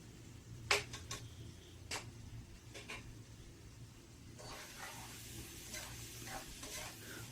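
Mixed vegetables with chopped green chilies being stirred in a pan: a soft steady sizzle with sparse utensil scrapes and one sharp knock early on, the frying hiss growing fuller in the second half, fairly quiet and without speech.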